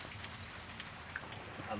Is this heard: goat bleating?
no